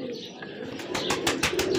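A high flyer pigeon, a heavy tournament bird, gives a few short coos and soft calls close by, with faint rustling and background noise.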